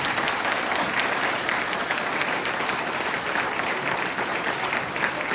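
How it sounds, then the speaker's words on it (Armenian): Residents at an outdoor community gathering in Sarnaghbyur break into loud, sustained applause, a continuous dense wash of clapping from a large crowd. "ծափ տվեք տաքացեք"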